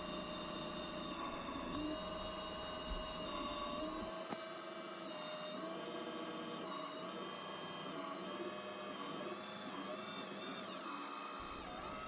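A CNC machine is cutting a wax blank on a lathe setup with the coolant switched off, giving a steady, continuous whine with many sustained tones. The layered machine drone runs throughout at a moderate, even level, with no voices.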